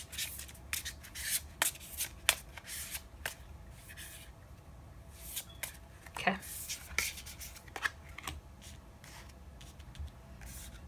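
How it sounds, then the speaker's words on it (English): Tarot cards shuffled by hand in a quiet room, a run of soft riffling and rubbing bursts with brief pauses, close and fairly faint. "I'm gonna give it one last shuffle."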